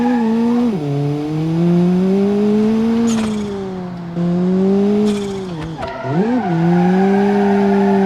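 A rallycross car in the BeamNG.Drive driving game corners and skids, its engine droning steadily and loudly, dipping and rising in pitch through the turns, with brief tyre-scrub bursts mixed in.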